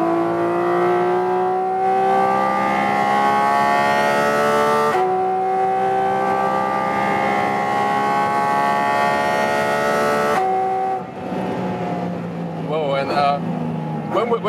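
A Porsche 718 Cayman GT4 RS engine roaring loudly on a racetrack, holding a sustained high-revving wail that climbs through gears with short breaks at shifts, then shifting to a rougher fluctuating note near the end.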